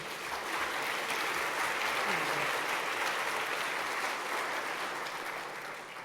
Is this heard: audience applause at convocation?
yes